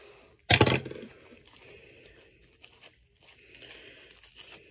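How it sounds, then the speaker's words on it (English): A small business nail-order package being torn open, one sharp loud rip of plastic followed by quieter crinkling and rustling handling noises, close up with no talk. "The bag is really cute, but I can't open it."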